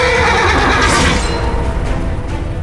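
A war horse in the Chivalry 2 medieval battle game gives a loud, close, drawn-out neigh over battlefield din and clopping, with no speech.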